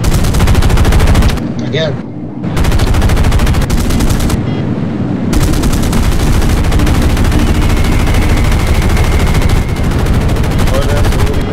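Bomber gunner's machine gun in Battlefield 1942 with the Forgotten Hope Secret Weapons mod, loud continuous rattling bursts broken by two short pauses, with engine drone underneath and a brief spoken word.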